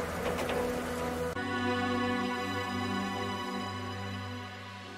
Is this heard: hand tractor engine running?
no